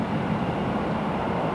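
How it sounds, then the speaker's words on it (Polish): Tram passing by outside, heard as a steady, broad rumbling roll that holds at an even level from start to finish with no voices. "Oj, tramwaj, tramwaj, tramwaj."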